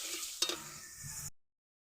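Meat and spices with turmeric and salt being stirred in a pan, a brief close sizzle with a sharp scrape of the spoon, then cutting off to silence.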